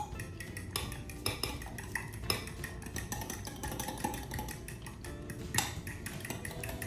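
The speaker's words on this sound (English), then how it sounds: "we're going to combine that with our 1 cup of buttermilk. I'm just taking a fork." A fork whisks six egg whites with a cup of buttermilk in a bowl, making steady close clinking and tapping against the sides with no voices.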